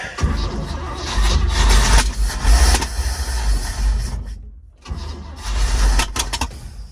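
An old 1948 GMC COE truck engine, long left sitting and in need of a carburetor rebuild, cranks and catches into rough, loud running, with a brief drop near the middle before roaring back up.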